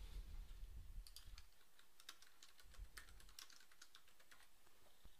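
Quiet, rapid clicking of a computer keyboard as a report name is typed into a dashboard web app, in short uneven bursts, close and alone, ending with a sharper click.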